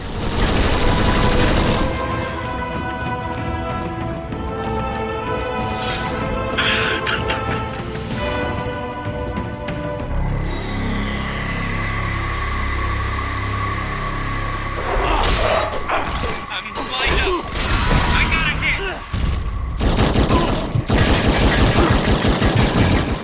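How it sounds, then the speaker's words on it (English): Loud video game gunfire from Too Human rattles in long automatic bursts, with bullets pinging and ricocheting off ghostly enemies. Booms, metallic impacts and ringing tones pile up close throughout, with no talking. "I see bullets are not very effective against ghosts because they bounce off going by the sound."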